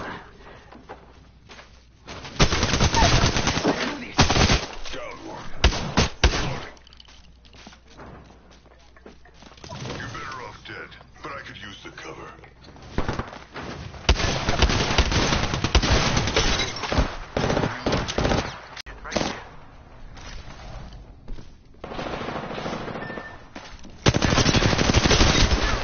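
Gunfire in the video game Apex Legends: loud bursts of rapid automatic shots and single cracks come in repeated clusters, with quieter gaps between volleys and a busy battle background.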